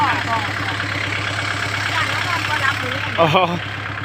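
A tractor engine idles with a steady low rumble throughout while plowing down rice paddy dikes for a firebreak, a voice briefly speaking over it toward the end.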